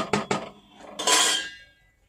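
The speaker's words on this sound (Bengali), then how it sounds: "এবার একটু নাড়িয়ে চাড়িয়ে" A spoon clanks twice against a pressure cooker pot of chicken rice, then scrapes and stirs through it in one longer sweep, close and fairly loud.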